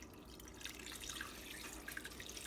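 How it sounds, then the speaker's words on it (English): Water runs into a crock pot being filled to cover soup stock ingredients, a steady soft splashing and trickling stream with small bright droplet sounds, fairly quiet and continuous with no talking. "I am filling my crock pot with water so that all of the ingredients are submerged."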